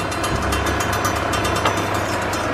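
Noisy exhaust fan of a portable stove, a steady whirring rattle with fast ticking pulses, close and constant with no talk.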